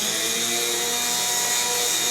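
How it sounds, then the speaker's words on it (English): An abrasive cutoff wheel grinds through a fiberglass cowling for a K52 Kadet LT-40 model plane, a continuous, loud, high-pitched whine and hiss heard close up without pause. "got my abrasive cutoff wheel"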